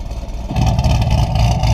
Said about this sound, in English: these are straight through mufflers, or actually they bypass the muffler, straight through exhaust.